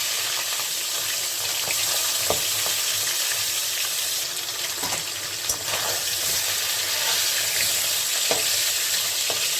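Steady, loud sizzling of fish heads frying in hot oil, with occasional sharp crackles and pops throughout.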